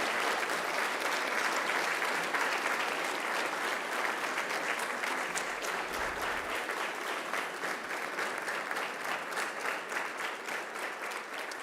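Graduates at a Macquarie University ceremony give their families and friends a long, sustained round of applause, a dense, even wash of many hands clapping that carries on steadily for the whole stretch.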